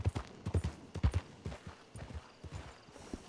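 Horse hooves clip-clop in the video game The Rift Trails, a close, steady trotting rhythm of sharp, repeated knocks.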